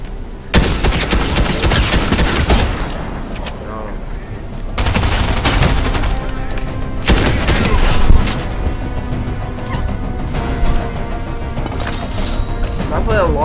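SMG fire in Fortnite Chapter 3 rattles in sustained rapid bursts close up and loud, with brief breaks between strings of shots. Other game sounds and a voice sit alongside the firing.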